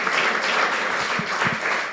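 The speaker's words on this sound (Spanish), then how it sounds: "denle palmas al Señor" A church congregation applauds in praise after a sermon, a steady wash of clapping from many hands with a few sharper claps standing out near the end, filling the whole moment without speech.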